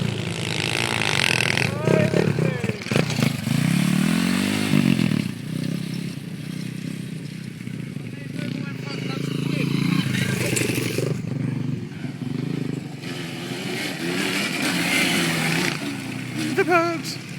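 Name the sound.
pit bike engine running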